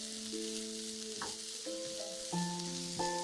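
Ginger and garlic paste frying in a pan and being stirred: a gentle steady sizzle with a brief scrape, beneath a melodic tune.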